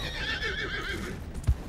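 A horse in the open-world western game Red Dead Redemption 2 neighs and whinnies in a short sustained call, with clip-clopping hooves and a brief thump near the end.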